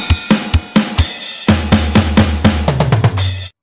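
A drum kit plays a combined beat at standard tempo for a song part, with punchy kick and snare hits in a steady rhythm, loud and close, closing on a quick run of rapid hits before stopping.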